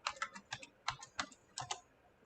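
Close, crisp computer keyboard typing in quick clusters of keystrokes, loud and alone with no voices.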